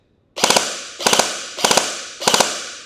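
A Double Eagle DMP-9 airsoft gun fires four rapid bursts of about three shots each, evenly spaced, with sharp, close, loud snaps and short fading tails between bursts.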